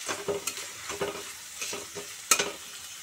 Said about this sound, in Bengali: পেঁয়াজটা একটু লাল লাল করে ভাজা হতে